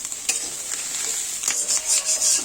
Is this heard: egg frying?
yes